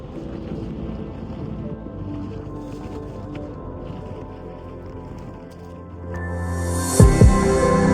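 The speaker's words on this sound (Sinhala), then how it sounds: "එතනින් බෝට්ටුවක නැගලා මුහුද හරහා ගමන් කරනවා." A boat crosses the sea to Nagadeepa island off Jaffna in northern Sri Lanka, a steady engine drone and rumble with wind and water noise swelling louder near the end.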